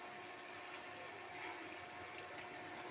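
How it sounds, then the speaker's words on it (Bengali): A little water poured into a pan of paneer curry with cooked-down spice masala, a steady, even wash of splashing liquid running close and unbroken for a few seconds. "অল্প একটু জল দিয়ে দেবো।"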